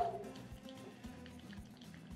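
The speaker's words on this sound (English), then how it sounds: "Can you hear that bubbling?" Food bubbles quietly inside a VitaClay clay cooker, heard close up as soft, irregular low pops and gurgles over a faint background hiss.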